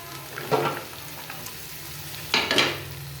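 Sliced okra and potato frying with onion in oil sizzle steadily, broken by two louder bursts of scraping and stirring in the pan. No voices are heard.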